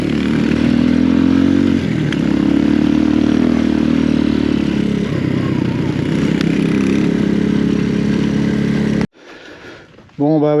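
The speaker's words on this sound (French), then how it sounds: "La petite moto chinoise, elle a déjà bien souffert à la descente et elle nous le fait savoir." A small Chinese motorcycle, battered after a rough descent on a Madagascar trail, runs with a loud, rattling, clattery engine for about nine seconds before cutting off abruptly; someone speaks briefly near the end.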